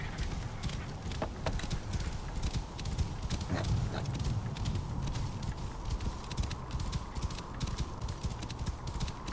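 Steady rhythmic hoofbeats of a horse galloping in the video game Assassin's Creed Origins, continuous and fairly close, with faint game ambience behind.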